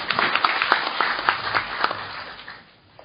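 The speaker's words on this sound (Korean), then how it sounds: "김태일 고려대학교 행정학과 교수님, 큰 박수로 맞아주시기 바랍니다" An audience at a government policy forum applauds to welcome a professor, a moderate burst of many hands clapping that gradually thins and tapers off.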